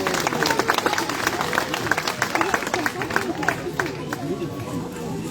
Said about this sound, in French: on peut bien sûr l'applaudir.